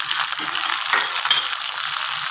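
Shrimp and onion fry together in a pan, a dense, loud, continuous sizzle close up with faint stirring underneath and no talking.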